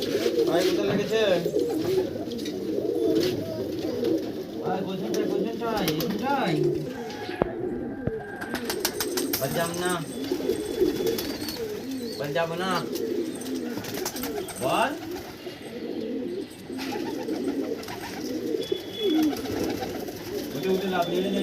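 A loft full of pigeons coos steadily in a dense, overlapping chorus of low throaty calls, with occasional wing flutters and short chirps, while someone talks intermittently over the birds.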